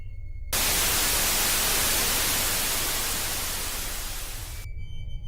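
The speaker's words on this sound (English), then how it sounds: "There was a burst of static, a sound like metal grinding metal." A loud, steady burst of hissing white-noise static from an answering machine, starting abruptly and cutting off after about four seconds, with a faint electrical hum before and after.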